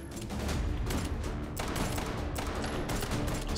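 Gunfire in the VR shooter Hot Dogs, Horseshoes & Hand Grenades, a loud, continuous barrage of overlapping shots with sharp bursts throughout.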